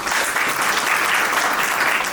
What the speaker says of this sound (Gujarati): જોરદાર તાળીઓ પાડી લો.